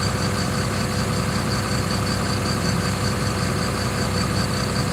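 Tractor engine idling while shelling corn, with the shelling buggy shaking the tractor, a loud steady rumbling drone with a faint rhythmic knock, continuous and close with no talking.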